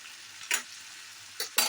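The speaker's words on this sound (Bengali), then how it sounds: "প্রায় 10 মিনিট হলো আমি এইভাবে হাই ফ্লেমে কষিয়ে নিয়েছি।" Spicy chicken kosha frying on high flame, a soft steady sizzle broken by a few short bursts of spoon stirring against the pan, close and quiet.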